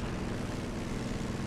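A helicopter flying in the Just Cause 2 video game gives a steady, droning rotor and engine rumble that fills the short moment evenly, at moderate loudness, with no speech over it.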